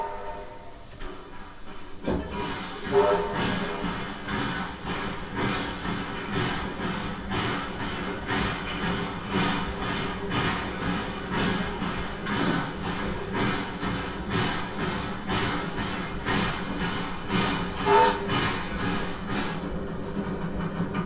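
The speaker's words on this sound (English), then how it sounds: "Let's take a train ride." Riding a train, with a steady rhythmic clatter of wheels over rail joints and a constant rumbling hum throughout, heard from inside the carriage.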